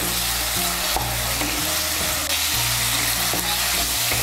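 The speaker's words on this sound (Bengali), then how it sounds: "আলুটাকে মিশিয়ে নিয়ে আঁচটাকে মিডিয়াম করে আলুটাকে একটু ভেজে নেব মশলার সঙ্গে" Large chopped potato pieces fry with spices over medium heat for vegetarian chickpea ghugni, a loud continuous sizzle with stirring scrapes and faint background music underneath.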